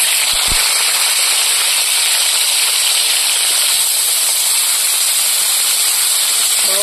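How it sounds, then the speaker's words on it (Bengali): Village chicken meat frying in hot oil in a pan, a loud, steady hissing sizzle that holds close and continuous throughout, with no talking. "এবার তেলের মধ্যে মাংস দিয়ে দেবো।"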